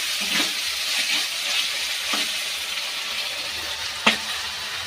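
Chicken meat frying dry in a pan with spices, a steady close sizzle with a few brief stirring clatters, the sharpest near the end, and no talk.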